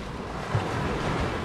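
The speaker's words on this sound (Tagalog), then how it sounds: "Ay, laki ng alon." Continuous rumbling surf of big ocean waves at Kamandag Beach fishing spot, with heavy wind buffeting the microphone, loud and close, with no voices.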